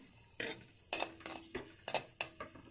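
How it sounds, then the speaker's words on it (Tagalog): Ginger sautéing in a pan for tinolang tahong, with several sharp bursts of sizzling and stirring scrapes coming close together, fairly quiet with short pauses between. "Gisa natin yung ating luya."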